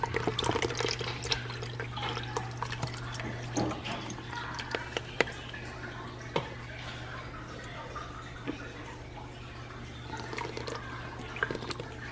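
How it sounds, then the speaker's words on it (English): Coconut milk is poured into curry paste in a pan over medium heat, making soft, uneven drips and splashes against a low steady hum. "While I'm adding in the coconut milk, my stove is set at number 5"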